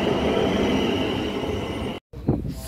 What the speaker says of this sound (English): And 450091 on the Southwestern Railway Service to Portsmouth Harbour.